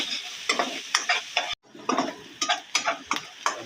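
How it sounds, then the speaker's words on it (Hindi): Ginger garlic paste frying in a pan, with a steady sizzle broken by repeated scraping stir strokes about every half second and one brief gap of near silence; close and loud, no voices. "अदरक लहसुन का पेस्ट डाल के 1 से 2 मिनट आप इसे भूनेंगे।"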